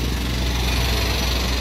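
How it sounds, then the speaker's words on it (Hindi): Construction machinery works on a street in Glasgow, a loud, steady engine drone with a low rumble, continuous and without speech. "ये कंस्ट्रक्शन का काम हो रहा है।"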